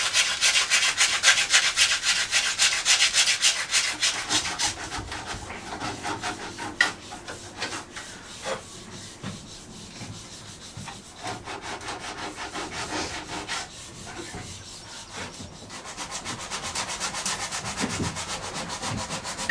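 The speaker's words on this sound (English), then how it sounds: "just stop sanding for a second so that you can hear what we're saying" Wood reclaimed for kitchen worktops is sanded by hand in a steady, rasping back-and-forth scrub that runs throughout. It is loud and close, easing slightly midway before picking up again, with no talking.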